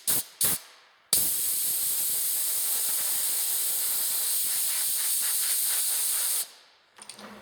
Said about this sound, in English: Then you come around with air hose and you blow it out nice